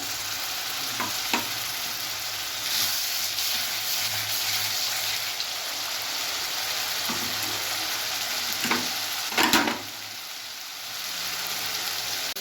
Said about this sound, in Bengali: আমি বেশ কিছুক্ষণ ধরে মশলাটা কষাবো